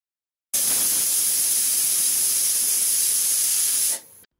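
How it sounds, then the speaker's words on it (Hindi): A pressure cooker whistle on high flame blasts a loud, continuous high-pitched hiss of steam for about three and a half seconds, then cuts off abruptly. "प्रेशर कुकर का ढक्कन बंद कर देंगे और हाई फ्लेम पे हमें तीन सीटी आने तक वेट करना है"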